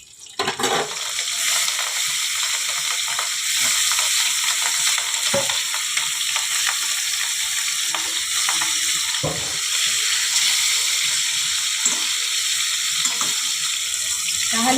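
Rohu fish pieces half-fried in hot oil in a pan, a steady loud crackling sizzle close by that starts abruptly and continues throughout, with occasional sharper pops and no speech.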